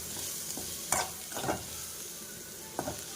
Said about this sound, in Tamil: கருவாடை போட்டுட்டு உடஞ்சா பரவாயில்லன்னா கிண்டிக்கோங்க